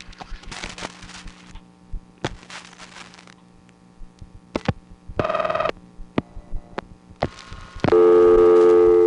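Telephone ringing tone on a New York test line, heard as bursts of steady tonal ringing mixed with sharp clicks and line hum, the last ring loud and sustained at the end.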